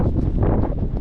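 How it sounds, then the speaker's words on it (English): Steady, loud wind buffets the microphone on an exposed mountain summit in the Carneddau, North Wales, a low continuous roar with gusty swells and no voices. "it's a bit windy"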